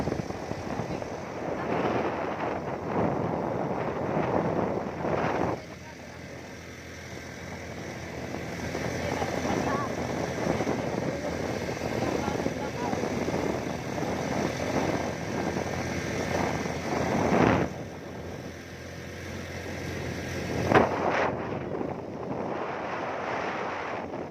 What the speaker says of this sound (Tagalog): Hala, hangin.